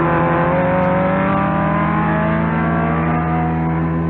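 A race car engine roars past in an old radio mystery drama effect, a loud sustained mechanical drone with shifting pitch as it accelerates and passes, filling the whole moment without talk.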